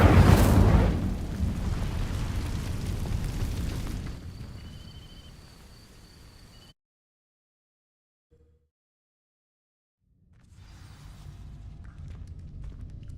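In Hogwarts Legacy, casting the Incendio fire spell sets off a loud whooshing burst of flame that roars and fades over several seconds, followed by near silence and then low ambient rumble.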